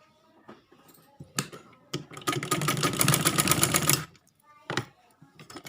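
Sewing machine stitching kurti fabric: a few clicks and short whirs, then a steady two-second run of rapid mechanical stitching before it stops, with more clicks after, heard close up.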